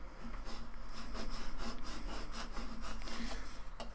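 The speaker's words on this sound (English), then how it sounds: "Cricut scraper, and go around kind of rough, or not too rough, but kind of, you know, a pretty good amount of pressure, and burnish it on" A Cricut scraper tool rubbed firmly back and forth to burnish a surface, producing close, rhythmic scratchy strokes with no talking.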